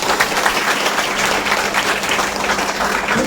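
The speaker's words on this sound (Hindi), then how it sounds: "एक बार ताली बता दीजिए" Sustained audience applause at a Vestige network-marketing seminar in India, a dense, steady wash of many hands clapping at close range for the full length without a break.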